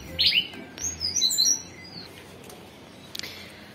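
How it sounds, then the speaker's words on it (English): Birds chirp outdoors in quick, bright bursts, clustered in the first half and returning briefly near the end, with no talk over them. "Oh, the birds are."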